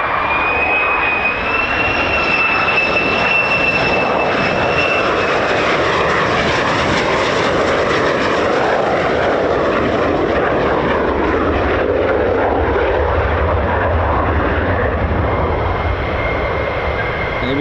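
US Air Force fighter jets, F-15s and F-35s, flying at RAF Lakenheath, a loud continuous roar and rumble with whining tones, steady and close throughout.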